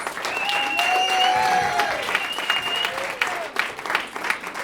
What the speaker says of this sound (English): I want to give them one more round of applause.